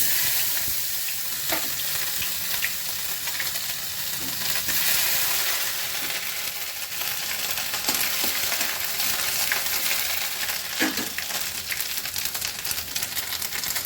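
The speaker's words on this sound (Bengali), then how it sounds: "দুটো শুকনো লঙ্কা ফোড়ন করলাম, আর গরম মশলা, জিরে ফোড়ন করলাম।" Dried red chillies, garam masala and cumin seeds tempering in hot oil, a loud continuous close sizzle with sharp crackles and occasional stirring scrapes, no voices.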